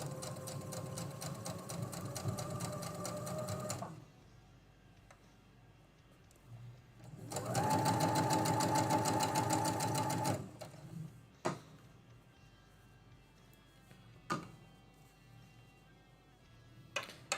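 A sewing machine runs in two bursts of stitching, a steady rapid mechanical whir lasting a few seconds each, separated by quieter pauses with a few sharp clicks and taps near the end.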